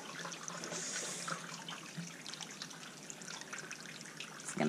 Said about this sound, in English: fill up my water bottle from the trickle down here